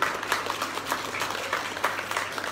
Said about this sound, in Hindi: सो एक जोरदार तालियां दे दीजिए।